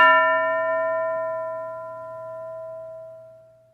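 A single bell strikes once and rings out in a clear, sustained tone that slowly decays over several seconds, loud and alone.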